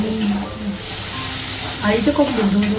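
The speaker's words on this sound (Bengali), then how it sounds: "এবার মশলাটাকে ভালো করে আমি কষে নেব" Spice masala for Bengali chicken kosha being fried in a pan with ginger-coriander-cumin water, giving a loud close hiss and sizzle with stirring scrapes.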